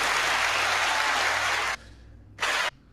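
Canned applause sound effect played in a studio: a loud, uniform wash of clapping that cuts off abruptly, then a second short burst follows after a brief pause.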